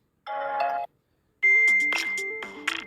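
A Samsung M31 phone ringtone plays clearly: a short chime, a pause, then a longer bright melodic tune of stepping tones, loud and close with no talk.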